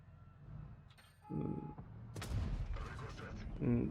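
Tank cannon fire in the mobile game WOT Blitz: a few sharp booming shots with metallic impacts and clatter, fairly quiet overall, mixed with game effects and speech.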